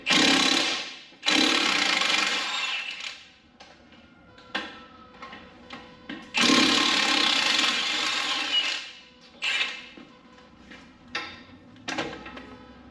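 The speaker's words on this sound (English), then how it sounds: "You're gonna go ahead and take off your caliper with your bracket." Brake caliper and bracket being removed from a Nissan Pathfinder with warped rotors: repeated ratcheting and rasping metal bursts of a wrench working loose bolts, close up, with brief clanks and pauses between strokes.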